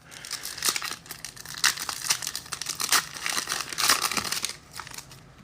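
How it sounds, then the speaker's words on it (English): Foil trading card packs from an NFL card break being torn open, with repeated crinkling and ripping bursts close up, several distinct tears in quick succession. "just rip the cards, Primo."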